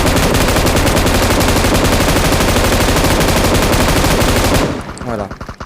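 Loud sustained automatic gunfire in the PUBG Mobile video game, a dense rapid burst that cuts off near the end, leaving scattered quieter shots.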